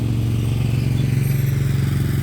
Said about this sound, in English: Hey, random guy driving by.